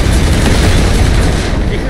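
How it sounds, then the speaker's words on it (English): A dense, loud rumbling blast in The Saboteur video game fills the space as an explosion brings down a ceiling, broad and sustained roar of debris with no clear separate hits, close and overwhelming throughout. "gonna need an explosion to bring down that ceiling"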